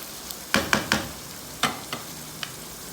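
Minced meat keema frying in a pan, steady close sizzle broken by several sharp spoon clatters against the pan, a quick burst of three, then a few more spaced knocks, no talking.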